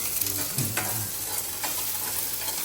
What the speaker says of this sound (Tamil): இப்போ அடுத்ததா கொழுப்பு, சுத்து கொழுப்பு வந்து தாளிக்கிறா.